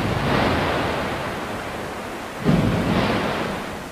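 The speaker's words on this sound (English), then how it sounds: "the waves break near the far end of the tank, where the bottom slopes up with a gradient of 1 in 5" Waves break on a sloping 1-in-5 artificial beach at the far end of a ship test tank at the National Physical Laboratory, a broad hissing wash that swells and then surges again.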